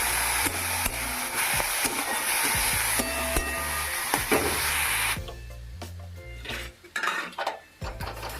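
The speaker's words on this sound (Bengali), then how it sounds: "শাক ভাজছি" Leafy greens fry in a wok, with a loud continuous sizzle and spatter and clinks of a spatula against the pan. The frying noise drops away partway through, leaving scattered clatter and handling sounds.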